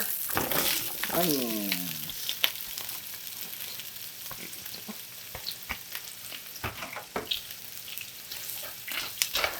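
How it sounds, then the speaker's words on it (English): Butter sizzles steadily in a pan as onions go in and fry for a patty melt, with a continuous close crackling hiss, some stirring clatter, and a voice speaking briefly over it. "You can hear that beautiful sizzle."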